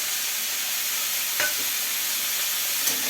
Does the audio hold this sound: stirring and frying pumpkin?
yes